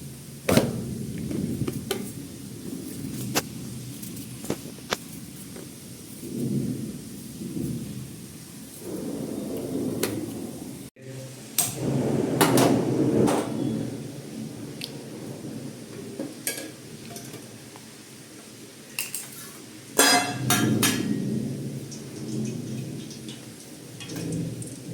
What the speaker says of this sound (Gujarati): પણ આ વરસાદ રહેતો નથી